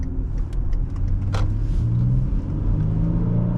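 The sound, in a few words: 2013 Hyundai Genesis 3.8 sedan accelerating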